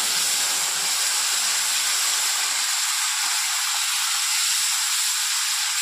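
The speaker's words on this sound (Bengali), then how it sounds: "এবার আমি বেটে রাখা আদা, জিরে, লঙ্কাটা, মশলাটা দিয়ে দিচ্ছি।" Spice paste of ground ginger, cumin and chili sizzling in hot oil for a village-style chital fish kalia, a steady loud hiss that stays constant throughout with no voices.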